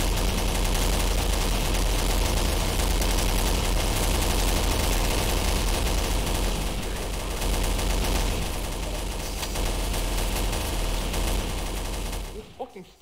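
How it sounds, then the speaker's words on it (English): Sustained automatic machine-gun fire in a Garry's Mod Zombie Survival match, loud and continuous dense bursts filling the whole stretch before cutting off abruptly near the end. "I can't hear a thing over gunfire."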